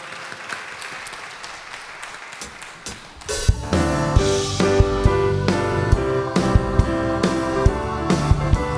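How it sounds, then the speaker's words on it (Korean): Worship-service congregation at a Korean Wednesday praise service claps together, first scattered and soft, then swelling into loud steady rhythmic clapping mixed with music. "우리에게 날마다 은혜 도하시는 하나님께 영광의 박수로 찬양하겠습니다"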